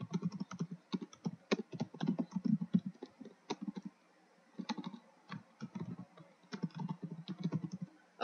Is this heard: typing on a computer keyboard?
yes